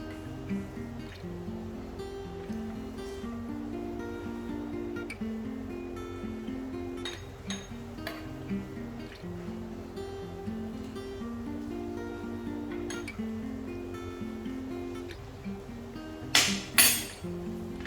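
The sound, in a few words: stirring a lava lamp mixture in a glass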